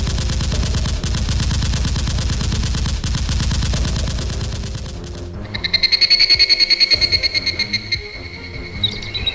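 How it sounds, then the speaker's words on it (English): Rapid toy Nerf gun fire in a mock battle, a loud steady rattling stream of shots that stops abruptly, followed by a brief high pulsing chirp. "The SWAT turned around and fired several shots at the leader and his assistant."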